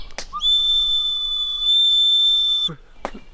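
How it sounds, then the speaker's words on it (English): A handmade bird-shaped whistle blown in one long, steady, piercing tone lasting about two seconds, bracketed by a couple of brief knocks, close and loud. "yeah, that's got a pretty decent whistle now."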